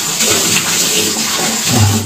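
Running water splashes steadily while someone washes their face, a continuous close wash of flow with small bursts and splashes throughout.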